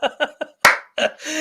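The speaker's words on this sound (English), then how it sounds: "Sorry, I shouldn't have clapped in the microphone." A single loud, sharp hand clap lands right on the microphone during a live talk show, bracketed by brief bits of voice before and after.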